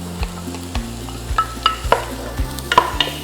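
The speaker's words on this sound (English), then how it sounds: "The lard is melted, so let's add chopped onions." Chopped onions hit melted lard in a pot for sauerkraut soup, a sharp close sizzle with repeated spoon or spatula knocks and scrapes against the pan, no talking.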